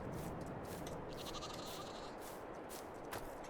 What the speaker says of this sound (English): we have sheep and goat even, and they produce milk